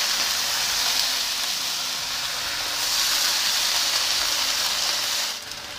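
Napa cabbage and carrots are stir-fried in a hot pan, giving a loud, even, close hiss of sizzling vegetables that holds steady, then drops off sharply near the end.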